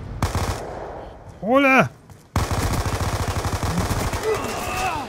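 Automatic gunfire in Black Ops II multiplayer, loud rapid bursts of rattling shots with a brief sweeping electronic tone in between, and someone speaking briefly over the action.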